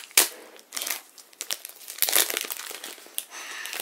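A Pokémon booster pack's foil wrapper is torn open by hand, giving close, crisp crinkling and tearing in uneven bursts over a few seconds, with no talking.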